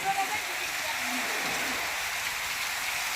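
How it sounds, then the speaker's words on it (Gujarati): Heavy rain pouring steadily in Patan, a dense continuous hiss filling the clip at close range, with brief faint voices at the start. "જો ભાઈ વરસાદ ફૂલ પડે છે"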